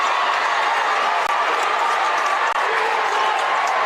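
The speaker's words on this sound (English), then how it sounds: "if you're not hearing this crowd, I don't know what you're hearing because it is loud in here" A loud, dense roar from a packed crowd at a high school boys basketball game in a gym, with a constant wash of cheering and shouting and a few faint thuds underneath.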